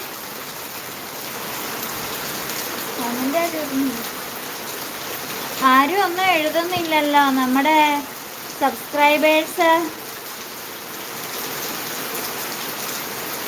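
Heavy downpour drums steadily on surfaces, a constant wash of rain filling the whole stretch while someone talks over it in bursts near the middle.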